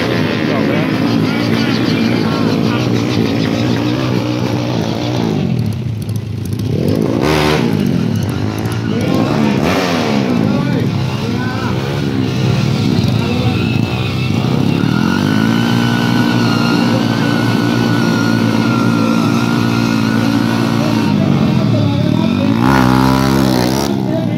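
Honda Wave 110 motorcycles drag racing roar loudly and continuously, engines revving and shifting pitch as the bikes accelerate, with an announcer's voice talking over the noise throughout.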